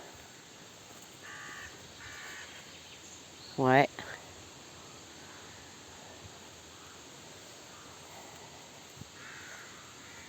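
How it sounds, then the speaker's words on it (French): A single crow gives one loud, close caw over a steady outdoor hiss of insects and ambient noise, and a voice briefly speaks nearby. "c'est le domaine des corbeaux."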